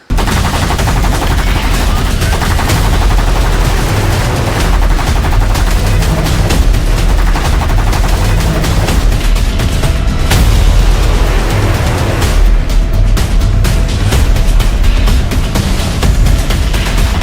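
Dense, continuous barrage of machine-gun fire with cannon booms and firework bursts during a final-round attack defending a yacht, loud and unbroken throughout with no talk.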